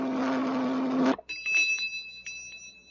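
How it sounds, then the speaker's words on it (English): An old radio sound effect of a flavor meter bell rings out clearly for about a second, then a fainter, thinner tinkling tone lingers and fades, alone without voices. "The better it tastes, the louder it'll ring the bell."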